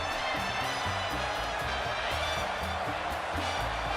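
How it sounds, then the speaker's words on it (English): A wrestling arena crowd in the WWE 2K22 video game cheers in a dense, continuous roar under a thumping rhythmic backing, loud and unbroken throughout. "You can hear it in the crowd here tonight. They are absolutely ecstatic."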